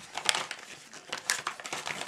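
A plastic parts bag from a Porsche 911 Carrera RS model kit crinkles and rustles up close as it is handled and opened, in short irregular bursts with no talking.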